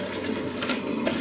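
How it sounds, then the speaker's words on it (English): A household dishwasher runs in a kitchen with a steady, close whirring hum and a faint rattle that fills the whole clip at a constant level, with no talking. "I apologise if you can hear my dishwasher."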